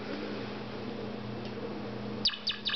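A toy mouse for cats gives three quick high chirps near the end, close and clear over a steady low household hum.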